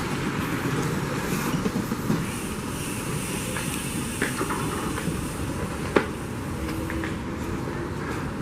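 A Shanghai Metro subway train rumbles and hisses steadily for several seconds, with occasional clicks and clacks from the rails and no voices.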